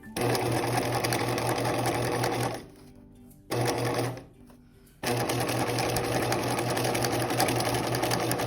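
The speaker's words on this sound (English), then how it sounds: "We have just sewed around all of these edges." Sewing machine stitching around the pinned edges of a fabric scripture case bag, a close, steady mechanical whir with a constant hum, briefly stopping twice before running on again.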